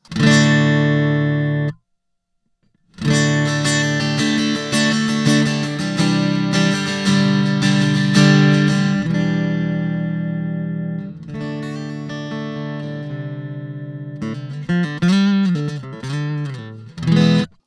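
Strummed guitar chords with a simulated dreadnought acoustic body, no effects, ringing out with a full, boomy body, a brief pause early on, then more chords and picked notes sustaining.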